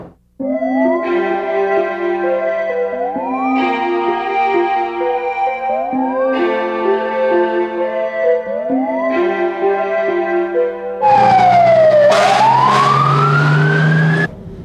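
Fire engine siren wailing loudly and steadily, with repeated rising-and-falling tone sweeps, ending in a sharper, brighter pitch swoop near the close; no talking.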